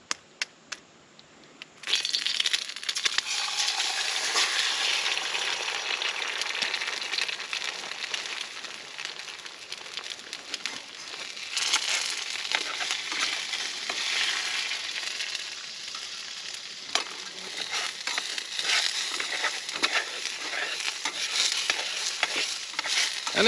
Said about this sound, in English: let's cook this egg real quick and see if I can flip it